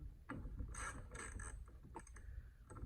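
Socket wrench ratcheting while tightening the top end bolts on a Yamaha Blaster 200cc during a rebuild, giving quick close clicking bursts in several short runs with brief pauses between.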